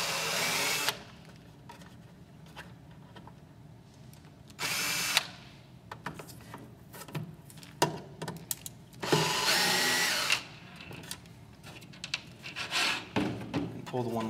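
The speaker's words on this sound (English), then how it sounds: "I'm going to use the drill because it's a lot faster." A power drill spins out two small Phillips screws from a Drymax duck bill valve in short, loud, high whirring bursts separated by quiet pauses, with clicks and handling noises between runs.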